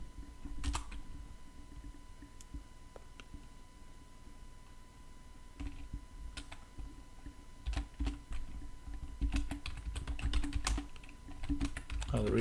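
Keys clatter at a steady, moderate distance on a computer keyboard while a password for the Kibana system user is entered, in scattered bursts of clicks with a faint hum underneath.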